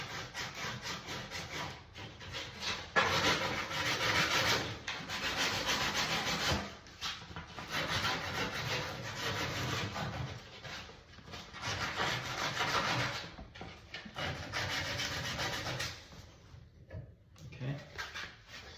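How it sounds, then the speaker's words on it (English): Sandpaper rubbed back and forth over the cut end of a tub spout pipe makes a loud, continuous scratchy rasp in irregular strokes with brief pauses, and a voice speaks at times. "I'm actually just going to come in here with a little bit of sandpaper and clean up the end of"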